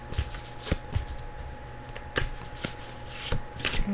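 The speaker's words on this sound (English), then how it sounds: "I'm having a hard time shuffling right now." Tarot cards being shuffled by hand, a run of quick riffling bursts and soft slaps repeating unevenly, close and fairly loud with no talking.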